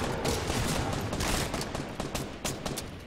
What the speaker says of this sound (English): Just shoot him with a shotgun.